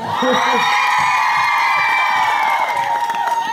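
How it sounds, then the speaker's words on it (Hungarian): An audience at a Christmas advent concert in Pápa cheers, whoops and shouts in a loud, dense swell that sustains throughout, with a few voices rising above the crowd. "szeretnénk neki egy hatalmas tapsot kérni"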